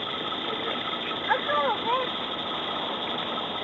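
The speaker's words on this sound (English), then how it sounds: "And the air pump is run off of a deep-cycle marine battery." A small electric air pump runs off an inverter powered by a deep-cycle marine battery, humming in a steady, close, mid-pitched drone, with brief faint vocal sounds partway through.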